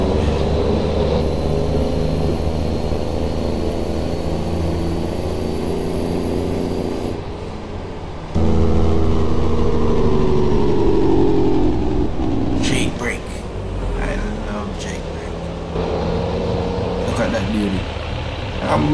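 A custom Freightliner truck engine in American Truck Simulator hauls a Great Dane reefer trailer, with a steady loud drone and shifting rumble under continuous speech.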